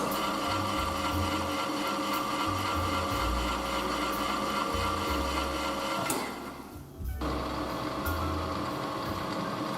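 A newly bought metal lathe running with its spindle turning slowly on the drive pulley: a loud, steady mechanical whine and hum with a rhythmic low throb, briefly dipping near the end before resuming, with no talk.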